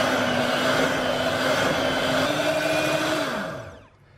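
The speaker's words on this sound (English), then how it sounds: "we're going to whisk that until it's smooth" An electric mixer whisks softened cream cheese with stevia or sweetener for a Basque burnt cheesecake, giving a loud, continuous whir that dips in pitch and winds down at the end.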